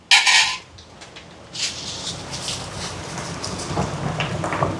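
A single clattering clank of a metal cooking pot being set down, loud and close, followed by quieter rattling and kitchen shuffling, during outdoor almsgiving cooking in Jaffna, Sri Lanka.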